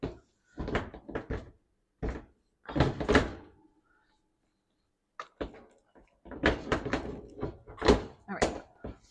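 Clunks and knocks of an oven door being lifted and refitted onto its hinges, irregular bursts with a quiet pause in the middle, close by and moderately loud.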